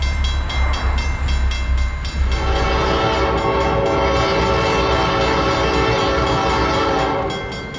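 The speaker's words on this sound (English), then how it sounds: "a westbound heads toward Richmond with a pair of GP35s and a CF7 third out" A westbound Santa Fe freight west of Gillis, led by a pair of GP35 diesels with a CF7 third, sounds a long, loud air horn blast over the steady rumble and clatter of the passing train.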